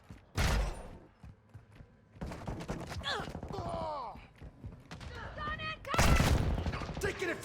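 Bursts of gunfire and loud blasts from a Call of Duty Modern Warfare 2 multiplayer match, several heavy volleys at the start, middle and end, mixed with game radio chatter and other voices.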